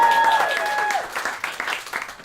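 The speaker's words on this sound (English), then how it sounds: "Give a big round of applause" Audience applause at a live Red Dwarf 30th-anniversary stage show, a dense burst of clapping heard alone, with two sustained electronic game-show buzzer tones ringing over its first second before fading out.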